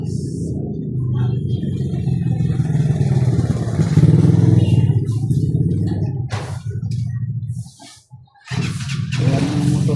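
A motorcycle engine runs close by in a steady low rumble with some clatter, dipping briefly near the end before picking back up.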